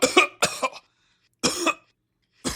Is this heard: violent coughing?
yes